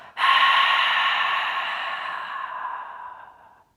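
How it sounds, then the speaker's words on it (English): A long, steady breath pushed out through the open mouth during a yoga breathing exercise, loud and close. It rushes in abruptly, then fades gradually over about three seconds before stopping. "Open mouth. Exhale. Release."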